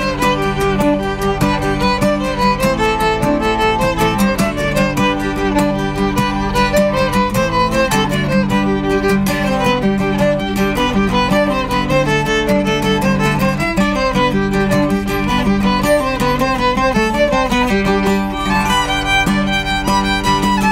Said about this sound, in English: that's the sound of the violin